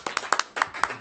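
A few people at a school board of trustees meeting clap sparsely, about eight distinct close hand claps in an uneven rhythm within a second.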